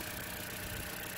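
A car engine idles steadily up close with its cooling fan at a standstill, a continuous even rumble and hiss with no change in pitch or level.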